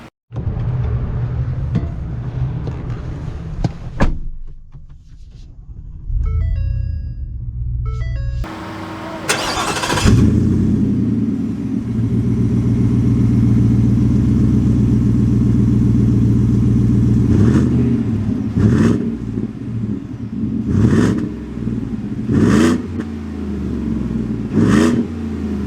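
A Ford F-150 Tremor pickup with a 5.0 V8 starts up, then rumbles steadily at close range as it pulls away and drives, with a few sharp clicks and thumps breaking through the engine drone.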